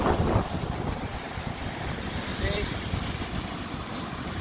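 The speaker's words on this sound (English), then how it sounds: "The wind is not terribly stiff." Tropical Storm Cristobal wind on Dauphin Island on the Alabama Gulf coast, a continuous low rumbling gust against the microphone with faint surf-like hiss, steady and moderately loud throughout.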